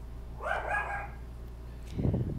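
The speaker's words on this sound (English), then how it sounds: "Oh, I hear an upset pup." An upset small dog gives a short burst of high, whiny yelps and barks that rises then trails off, followed by a low rustling thump nearby, against quiet background hum.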